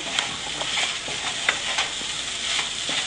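Red and yellow bell peppers sizzle and crackle in a hot frying pan as they are stirred, with scraping strokes and spitting pops over a steady hiss; no talking.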